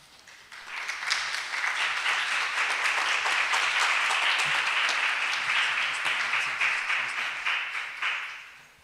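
An audience applauds after an academic talk on the ethics of returning cultural artefacts. The clapping swells quickly to a dense, sustained roar of many hands for several seconds, then tapers off near the end.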